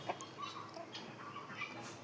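A grey hen clucking softly outdoors, with a few short, faint clucks scattered over quiet background ambience.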